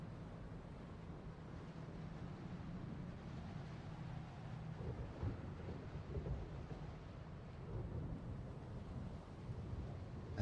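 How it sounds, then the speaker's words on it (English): Thunder in Dark Souls, distant low rumbling rolls over a dark, steady storm ambience, faint and sustained with swelling peaks midway and near the end. "I never noticed like the thunder around here."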